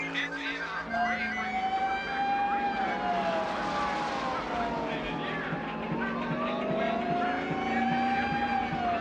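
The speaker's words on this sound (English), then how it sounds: "those sirens that you're hearing" Wailing sirens at an auto race rise and fall continuously, moderately distant, layered over background traffic noise.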